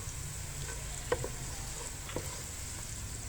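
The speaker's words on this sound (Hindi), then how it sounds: "अब ये सारी चीज़ें जो है मज़ीद को थोड़ी देर के लिए हम अच्छी तरह से भून लेंगे" Cardamom, fennel, sesame seeds, coconut, pistachios and raisins fry in a pan with a steady close sizzle, and a few soft stirring taps come through on top.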